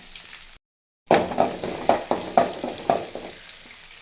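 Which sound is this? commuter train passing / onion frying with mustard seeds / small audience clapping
onion frying with mustard seeds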